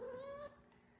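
A cat gives one short, clear meow at the start, fairly close and moderately loud, then it fades into quiet room tone.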